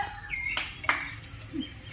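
Village yard chickens give a few short clucks and calls over quiet outdoor ambience, spaced irregularly and moderately close.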